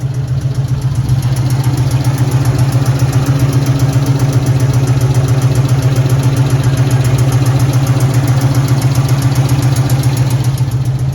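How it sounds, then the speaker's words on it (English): A 1966 Ford Mustang with a 289 V8 idles steadily, its exhaust burbling close up with an even, rhythmic low rumble and no voices. "You can hear this exhaust noise down here."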